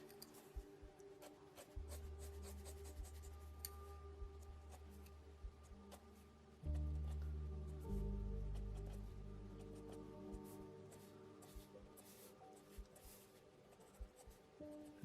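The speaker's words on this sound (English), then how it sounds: "moving to the side edge of our pencil and just adding a shadow just underneath the mouth" Graphite pencil rubbing and scratching across paper while shading a shadow beneath the mouth of an anime character sketch, a steady close rasp of light strokes under a low hum, with no talking.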